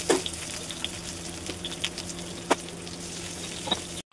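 Potatoes boiling in a pot of salted water, a steady close bubbling hiss with scattered small pops and clicks throughout, then an abrupt cutoff.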